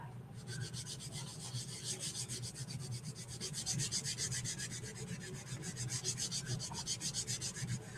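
An applicator rubs wax into a wooden Halloween cutout in quick, regular back-and-forth strokes, a soft scratchy swishing that is close and faint, with no talking.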